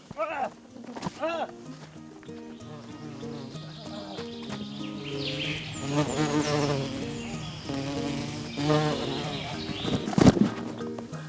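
Insects buzz steadily around hives, a dense droning hum layered with scattered voices and activity nearby, growing busier toward the end.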